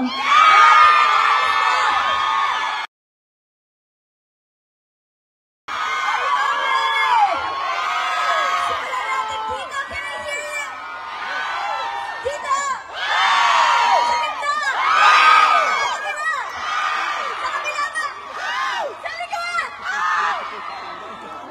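A concert crowd at a live performance in Birmingham, UK shouts, whoops and cheers loudly, with excited voices rising in waves, a short silent break, then sustained roaring.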